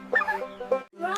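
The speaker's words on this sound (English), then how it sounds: "Turkey. It says gobble gobble" Turkey gobble sounding up close, a short bursty warbling call with a brief pause before a second burst, on a farm setting, clear and fairly loud with no speech.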